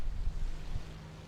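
Damaged engine of a P-38 fighter in War Thunder gives a low, steady droning rumble with a faint hum, rough and airy like rushing wind, continuous and moderately loud across the short stretch.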